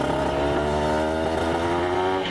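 A Honda NSR RR two-stroke motorcycle engine revs hard and steadily, its buzzy, raspy note close and loud throughout the short burst, with no talking.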